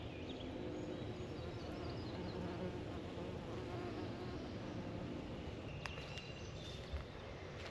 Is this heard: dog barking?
no